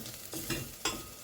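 Spices crackle and frying hisses in an AMC pan as a spoon stirs them, with a few scraping strokes over a steady sizzle. The sound is close and brief.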